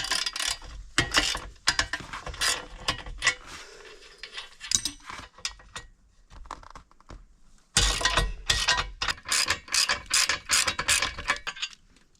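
A ratchet clicks in rapid bursts while loosening the bolts on a conversion van's seat base, with pauses and occasional metal clinks between runs.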